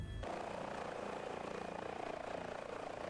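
Airbus H145 helicopter hovering in Microsoft Flight Simulator over water near an aircraft carrier with a firefighting bucket attached, a constant, dense rotor and turbine roar filling the cockpit, steady and loud with no voices.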